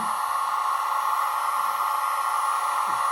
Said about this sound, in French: on voit les ventilateurs se sont accélérés un petit peu